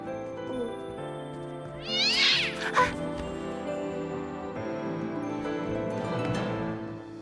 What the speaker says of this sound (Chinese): 是只小猫。